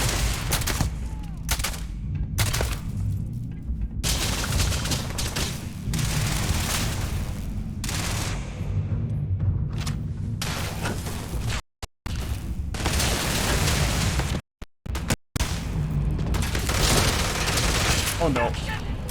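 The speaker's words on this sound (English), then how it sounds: "You all start shooting." Gunfire in Starfield, a dense continuous fusillade of rapid shots and blasts that goes on almost without pause, loud and close, broken only by a few brief silent gaps.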